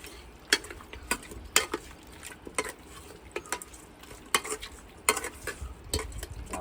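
Country chicken with turmeric frying in a pan, stirred with a spoon; repeated sharp scrapes and clinks of the utensil against the pan over a low continuous sizzle, close up with no talking.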